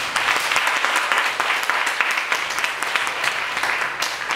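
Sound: audience applause welcoming a speaker

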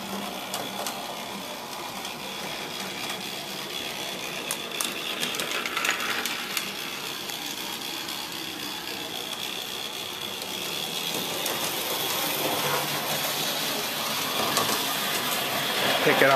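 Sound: scratch-built O gauge brass trolley chassis motor and gears running

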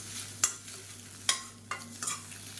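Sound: eggs stir-fried with pepper, cumin, turmeric and salt in pan

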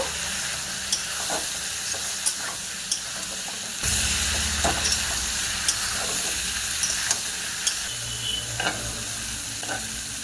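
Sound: sautéing fish with potato and bitter gourd in a pan

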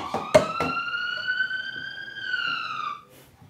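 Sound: police siren recording

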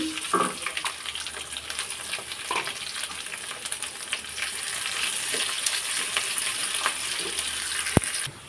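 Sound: garlic and chopped onion frying in oil

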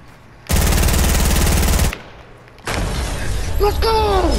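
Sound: gunfire in the video game Fortnite

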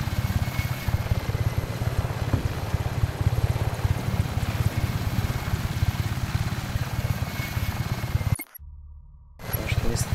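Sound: helicopter flying in the video game Just Cause 3

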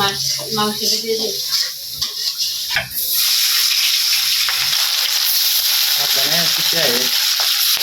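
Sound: meat and spices frying in a wok (kadai)

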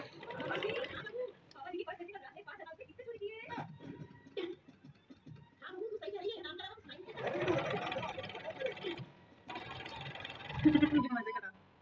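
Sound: sewing machine stitching a salwar

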